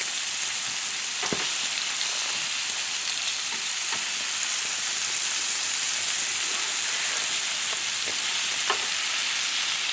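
Japanese fried rice sizzles loudly and continuously on a Blackstone griddle, a dense unbroken frying hiss with a few faint scrapes and taps, and no talk.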